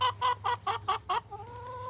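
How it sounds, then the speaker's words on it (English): A chicken clucks in a run of six or so evenly spaced, fairly near notes, ending in a softer drawn-out call against a low background hum. "Chickens are simple things."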